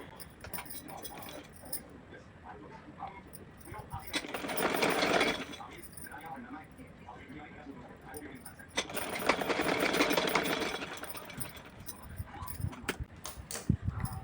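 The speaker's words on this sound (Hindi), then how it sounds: "एक बार और फोल्ड करके इसके ऊपर से मैं सिलाई लगाऊंगी" A sewing machine stitches over folded fabric for a small doll dress, running in two sustained bursts of rapid stitching between quieter handling sounds, with someone talking softly around the runs.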